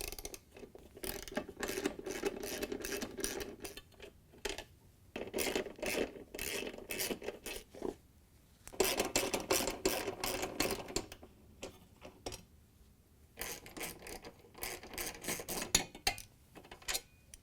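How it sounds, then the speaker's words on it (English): Ratchet with a 1/2 inch socket backing out bolts from a GE washer tub, a series of quiet clicking and rasping bursts separated by short pauses. "We're going to use a 1/2 inch socket with a ratchet to take out the bolts."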